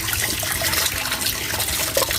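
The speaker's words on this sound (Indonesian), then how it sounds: "Dicuci bersih di air mengalir." Pumpkin being washed under running tap water, a steady close rush and splash of water over the gourd with small trickling variations throughout.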